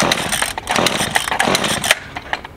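A Stihl two-stroke engine running on MotoMix fuel roars loudly and unevenly, its revs rising and falling in short bursts close to the microphone, with no voices.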